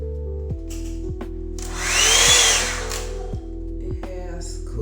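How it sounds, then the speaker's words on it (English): A handheld blow dryer brush with heat settings runs with a steady motorized whine and airflow rush that swells briefly in the middle, with a steady underlying hum throughout. "actually a blow dryer brush."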